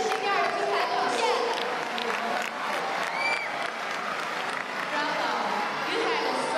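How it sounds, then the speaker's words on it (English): Crowd at the 2013 ATP Beijing tennis final between Djokovic and Nadal applauds steadily in a large arena, a dense continuous wash of clapping beneath a voice talking over the public address. "One more round of applause"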